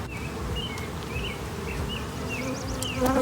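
A steady, dense buzz of many honey bees swarming close by around a hive, with faint bird chirps scattered over the drone.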